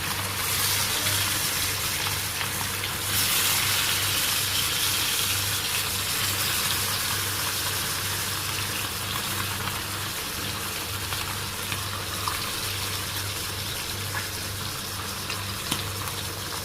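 Shing fish going into a pot with bottle gourd set off a continuous, fairly loud sizzling hiss with a watery, bubbling edge that holds steady throughout, with no talking.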